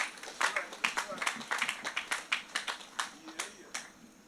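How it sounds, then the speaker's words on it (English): A round of applause from an audience at a community annual report and New Year's party, many hands clapping in quick, uneven bursts with a steady rhythm, fairly close and with no voices over it. "I ask you to join a round of applause also for the bus driver, parents, and the children"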